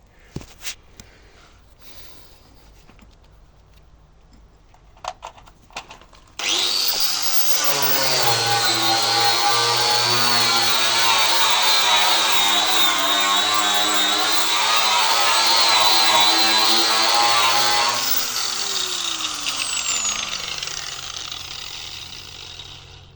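A power tool fitted with an abrasive cleaning disc that is breaking apart into chunks. After a few seconds of faint handling noise it runs as a loud, steady, harsh grinding whine for about twelve seconds, then spins down.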